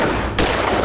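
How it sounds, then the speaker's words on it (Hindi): A loud gunshot bursts out partway through a tense crime drama scene, a sharp broadband crack following a steady noisy background and ringing on briefly afterward, with no talking. "विवेक पे गोलियां दाग दी"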